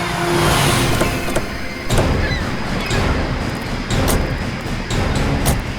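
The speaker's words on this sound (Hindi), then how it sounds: "श्रेया, गाड़ी रोको, 1 सेकंड रुको।" A car rolls and comes to a stop on a forest road, its engine and tyre rumble steady and fairly close, with a door or window mechanism and some movement sounds.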